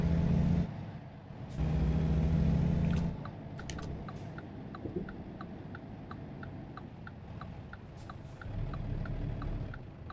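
Upgraded truck engine in American Truck Simulator pulling hard, a steady low drone swelling near the start and again mid-clip, with a regular light ticking running through the rest.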